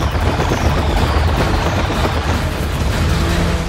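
Loud, dense rumbling explosions and booms from the Pixar film Cars 2 trailer fill the whole stretch without a break.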